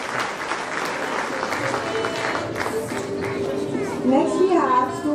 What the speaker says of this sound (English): Applauding, keep applauding them.